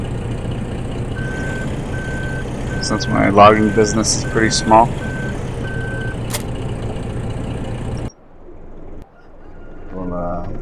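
Semi logging truck reversing to park in a game, a steady evenly spaced beeping over low engine idle, with someone talking over it before the beeps and engine cut out.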